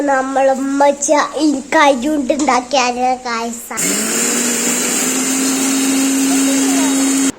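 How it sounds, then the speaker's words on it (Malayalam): After a few seconds of someone talking, a mixer grinder grinding rice starts up and runs with a steady, loud whirring drone until the end. "എന്നിട്ട് നമുക്ക് അരി ഒന്ന് പൊടിച്ചെടുക്കും"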